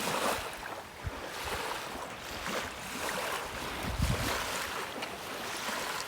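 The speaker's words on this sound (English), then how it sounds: "Man, we got some waves lapping today." Wind-driven waves lap steadily along a lake shore, with a broad, constant wash of water and gusting wind buffeting the microphone, close and fairly loud, with no talking.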